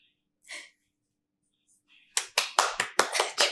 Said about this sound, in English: You start clapping. I clap every time a transition